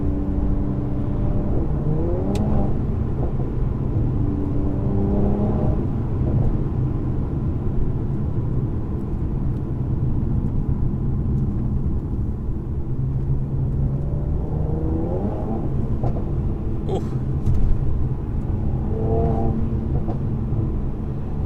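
A 400 bhp 2019 Mercedes-AMG C43 engine drones steadily with a few rising revs as it accelerates on a windy road, heard from inside the cabin over road rumble.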